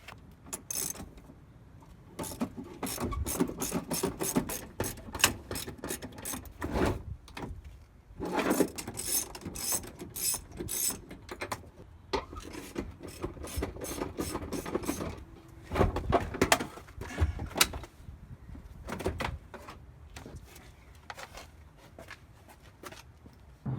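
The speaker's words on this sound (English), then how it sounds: "So the first thing we're gonna do is remove the old seat." Bursts of rapid ratchet clicking as the bolts on an old car bucket seat are loosened in a Nissan 240SX drift build, with repeated runs of close, metallic ratcheting separated by short pauses and clunks.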